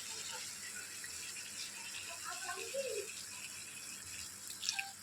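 Water poured into a pan of chicken kosha curry, a soft steady splashing and bubbling sizzle held for a few seconds, close and moderately quiet.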